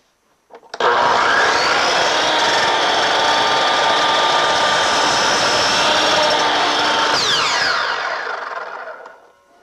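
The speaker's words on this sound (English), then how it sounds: "Now for that cut, we just used it straight down like a conventional miter saw, and that worked fine." Digital miter saw chopping straight down through a pine board: the motor spins up sharply, holds a loud whining buzz as the blade bites the wood for about seven seconds, then winds down and fades.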